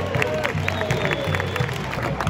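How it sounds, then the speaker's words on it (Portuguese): A full football stadium crowd claps and cheers in a broad, continuous wash, with voices shouting and talking over the applause nearby. "Estádio inteiro aplaudindo o Lucas Lima"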